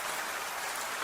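Heavy rain as a sound effect, a dense, steady hiss of pouring water with no gaps, fairly soft and even throughout, with no voices.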